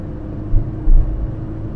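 Fiat 131 Mirafiori third-series rear-wheel-drive saloon engine heard from inside while driving, a steady low rumble with two brief swells in loudness, no talking.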